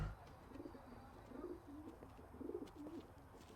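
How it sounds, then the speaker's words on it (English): Pigeons cooing on a rooftop in L.A. Noire, soft repeated throaty coos in a loose rhythm, close but quiet, with no talking over them. "I tend to my pigeons."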